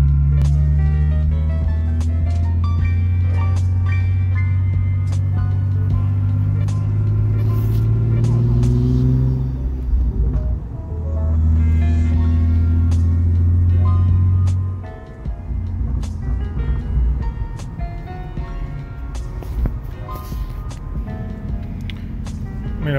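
A BMW E46 car drives along with its engine running, a loud, steady low rumble that dips briefly twice and shifts as the revs change around low speed; there is no speech.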